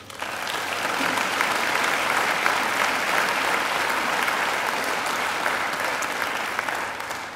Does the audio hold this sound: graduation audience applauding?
yes